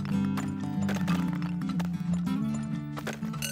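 Horses in the oil-drilling video game Turmoil whinny and neigh over clip-clopping hooves, repeated cartoonish game sounds layered over steady background music with no talking.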